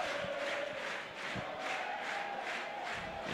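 Fans at Rizal Memorial Football Stadium during a Philippines versus Tajikistan football match, a continuous far-off crowd roar with pulsing chant-like swells and an occasional low thump, with no voices up close.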